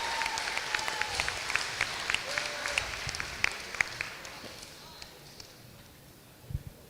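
An audience at a FIRST Tech Challenge robotics event claps in a moderate round of applause that gradually thins out and fades, with a faint voice underneath.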